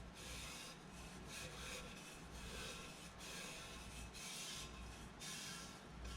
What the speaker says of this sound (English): you want to make sure to kind of just scrub very lightly. We don't want to scratch the metal that's inside there.